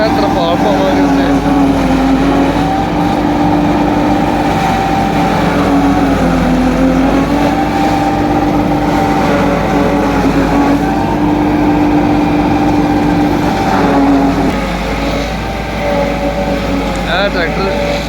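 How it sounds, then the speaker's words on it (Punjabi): A tractor engine labours under heavy load at steady high revs, a loud continuous drone filling the whole stretch close by, while farm work goes on in the open. "ਟਰੈਕਟਰ ਦਾ ਜ਼ੋਰ ਬੜਾ ਲੱਗਦਾ ਹੈ।"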